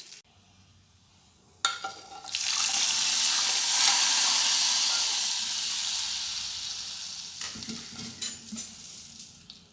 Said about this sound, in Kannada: ಒಗ್ಗರಣೆ ರೆಡಿಯಾಗಿದೆ ಫ್ರೆಂಡ್ಸ್ ಇವಾಗ ಇದನ್ನು ನಾವು ಸಾಂಬಾರ್ ಮೇಲೆ ಹಾಕ್ಕೊಂಡಿರೋಣ